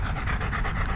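A dog pants with heavy, rapid breaths, a steady rhythmic huffing close to the microphone with no talk over it.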